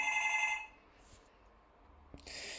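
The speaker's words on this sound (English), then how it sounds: "Phone started ringing, so I had to pause the recording." A telephone rings with a bright, tonal ring that cuts off, followed by quiet and then the start of another ring.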